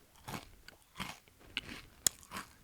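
Crunchy granola-style chips from a Nature Valley granola bar are bitten and chewed up close, giving several quiet, sharp crackling crunches spread across a short stretch.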